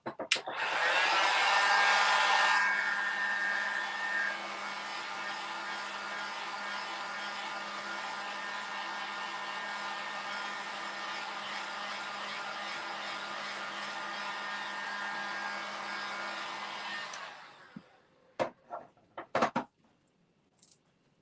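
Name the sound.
hair dryer drying paint on a door hanger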